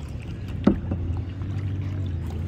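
Kayak paddling on the sea off Maafushi Island in the Maldives, a close splash of a paddle stroke over a steady low rush of water and hull noise.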